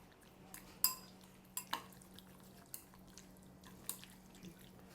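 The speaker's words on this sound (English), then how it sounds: "Put them in, mix them up well first." Chicken pieces are tossed with salt and black pepper in a bowl, giving faint, sparse clinks and wet taps of utensil against dish at irregular intervals in a quiet room.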